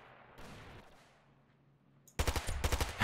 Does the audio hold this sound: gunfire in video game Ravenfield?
yes